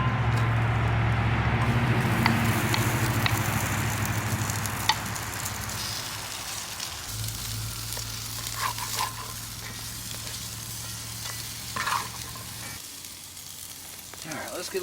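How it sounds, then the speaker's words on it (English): Potatoes and onions fry in a Lodge 12-inch cast iron skillet with a loud, steady sizzle, joined by a low hum that drops out partway, plus occasional scraping from stirring. "let's throw some taters and onions in and let them start cooking"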